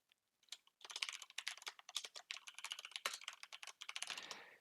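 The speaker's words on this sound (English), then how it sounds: "Hear me typing away." Fast, continuous typing on a computer keyboard, with dense crisp key clicks in uneven bursts close to the microphone, heard alone without talk.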